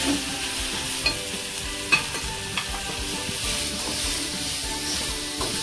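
Chopped onion and spring onion greens sizzle loudly in hot oil in a pan while being stirred, giving a continuous close frying hiss broken by a few soft utensil scrapes.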